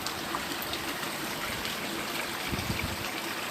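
Water running off in a steady trickling stream with nowhere to drain, spilling onto land in a rural area of Nong Khai, Thailand, a continuous close gurgle with no talk.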